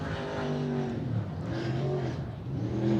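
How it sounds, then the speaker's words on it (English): Late model race car on a dirt oval at Willamette Speedway, engine rising and falling as the throttle is worked through the turns, loud and fairly close, with no talk. "Listen to the throttle under the 97 of Ryan Emery"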